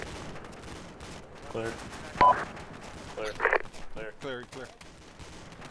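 Bursts of rifle and machine-gun fire in the military shooter ArmA II, mixed with radio-style voices calling out over the shots, with a few sharper, louder reports standing out.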